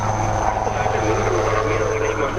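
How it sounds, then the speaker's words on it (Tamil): A coast guard Dornier helicopter on a rescue of stranded fishermen at sea during Cyclone Fengal makes a steady, loud rotor and engine drone, heard under continuous narration. "கடலோர காவல்படைக்கு சொந்தமான அந்த டார்னியர் ஹெலிகாப்டர் மூலமாக 3 மீனவர்களை மீட்டு"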